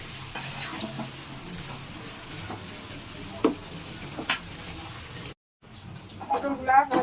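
Pointed gourd (potol) pieces, coated in salt and turmeric, fry in a pan with a low steady sizzle and occasional stirring scrapes, broken by a brief cut, with a voice speaking near the end.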